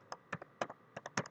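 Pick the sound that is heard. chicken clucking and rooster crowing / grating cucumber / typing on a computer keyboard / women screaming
typing on a computer keyboard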